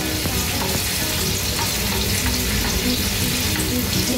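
Ginger sautéing in oil for chicken tinola, a loud continuous hiss of frying with occasional stirring scrapes, steady and close for several seconds.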